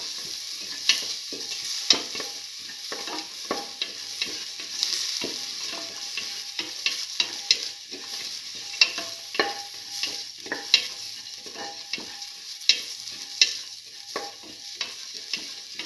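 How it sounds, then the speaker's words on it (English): Shallots and fennel seeds sautéing in a pan for a black lentil stew, a steady soft sizzle broken by frequent scraping clicks of stirring, close up with no talking. "Saute the shallots and the fennel seeds together."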